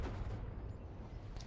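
Artillery rumbles in Hell Let Loose as a deep, continuous bombardment thuds and booms, faint and distant, with no clear single impact standing out.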